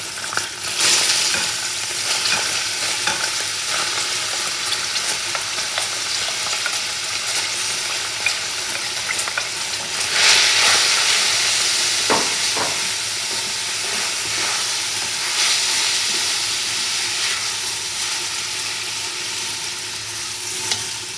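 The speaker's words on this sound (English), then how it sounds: "Just going to let that saute and soften up." Vegetables for chili sautéing in a pot, a steady loud sizzle and hiss with occasional stirring clatters, continuous and close with no talking.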